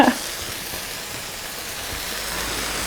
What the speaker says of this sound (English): pan's still hot, I can just sear those edges